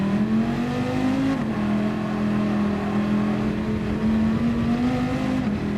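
A powerful race car engine in Gran Turismo 7 holds a steady high drone, rising slightly and dipping briefly as gears shift, loud and continuous with no talking.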